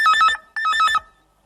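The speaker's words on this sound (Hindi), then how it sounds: "फिर से फोन की घंटी बजी" A telephone rings twice, two short bursts of a warbling electronic trill with a brief pause between them, loud and close, then silence.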